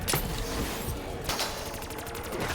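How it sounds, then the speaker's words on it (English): Explosions and gunfire from Black Ops 3 Zombies gameplay, a dense burst of bangs and rapid fire heard up close, with a couple of sharper blasts standing out over the continuous noise. "Those were grenade explosions, like actual grenade explosions."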